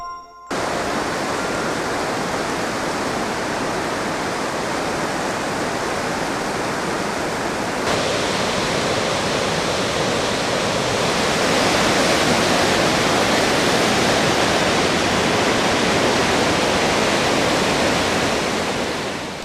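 Steady, loud rushing of the Humla Karnali River along its stony banks near pine forest, a dense continuous roar of water that swells slightly partway through, with no voices.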